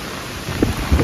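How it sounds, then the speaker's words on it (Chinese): A storm with hail, rain and strong wind during Typhoon Yagi at sea while fishing: a loud, dense roar of rain with low thunderous rumbles swelling over about a second, without voices. "一颗一颗的冰雹。"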